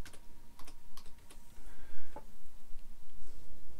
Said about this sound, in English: in the search box type the word extra